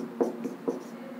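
Chalk scrapes across a blackboard in a physics lesson, with three short, close strokes spaced about a quarter-second apart and no talk over them.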